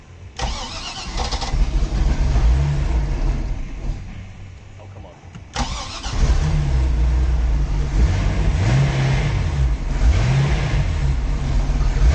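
A Glastron-Carlson CVX23 boat engine cranks and catches, then runs and revs with a rough, wavering roar that dips and surges, loud and close, with a voice briefly audible underneath.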